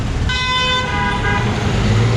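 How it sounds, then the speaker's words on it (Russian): Bus horns honking in busy Delhi traffic, a loud tonal horn blast rising over a constant roar of engines and road noise, with a second honk overlapping it. "Громче всех гудят автобусы"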